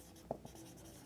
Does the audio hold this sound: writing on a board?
yes